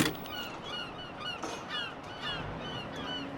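Ibis honking: repeated nasal honks over a steady wash of outdoor background noise, moderately loud and unaccompanied by voices.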